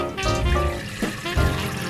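Sorrel drink draining from a lifted double pot insert, a steady liquid pour and splashing that runs close and loud for about two seconds.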